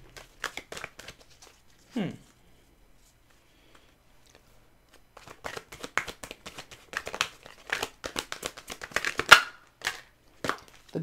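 Oracle cards being shuffled by hand, a run of dense crisp riffling and slapping bursts that comes in two rounds, with a quiet pause between them.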